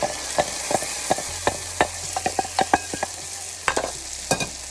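Ground tomato puree is stirred into a hot frying pan, the spoon scraping and knocking in irregular sharp strokes over a soft steady sizzle, close and alone with no voices.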